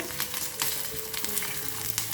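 White sesame seeds and curry leaves sputter in hot oil for a seasoning, a steady close crackle with scattered sharper pops throughout and no talk.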